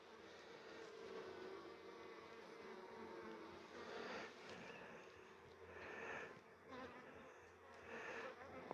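Honey bees buzz at a hive in an apiary, several insects droning close by with swelling passes as individual bees fly near, fairly quiet and with no speech.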